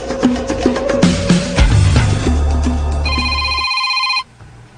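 A cellphone ringtone plays loudly in a radio drama, a tonal electronic melody with repeating notes that ends abruptly, leaving near silence.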